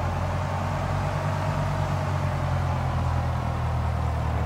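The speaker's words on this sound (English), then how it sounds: "We have a good start on the engine." A single aircraft engine idles steadily just after start in the X-Plane 10 flight simulator, a loud constant droning hum with a low tonal rumble, no talk.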